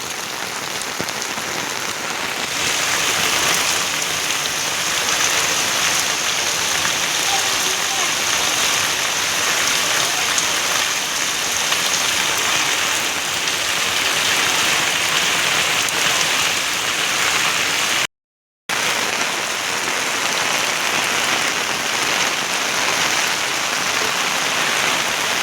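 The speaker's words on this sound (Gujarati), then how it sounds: "અદભુત વરસાદ પડી રહ્યો છે" Heavy monsoon rain pours down in a dense, loud, unbroken hiss for the whole stretch, briefly cutting out near the end before resuming just as strong.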